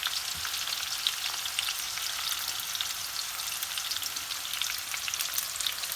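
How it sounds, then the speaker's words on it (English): Onions with cumin seeds browning in a pan, giving a steady, dense crackling sizzle that runs unbroken and fairly loud throughout, with no talking. "We're going to start off by browning off some onions."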